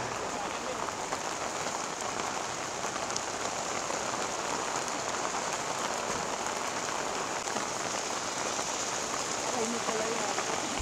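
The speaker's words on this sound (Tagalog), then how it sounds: "Inulan na nga kami rito" Heavy rain pours steadily at a mountain peak campsite in Tanay, a dense, even hiss of drops pattering on surfaces that stays constant from start to finish.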